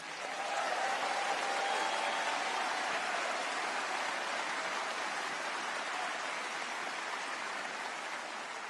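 A large audience at a Sydney Jewish community event applauds steadily and loudly for the NSW Premier's wife, a dense continuous wash of clapping that holds through to the end with no voices over it.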